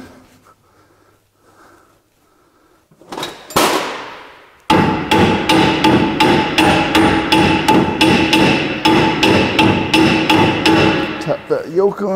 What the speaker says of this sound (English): Tap that yoke on a little bit.